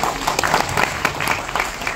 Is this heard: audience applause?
yes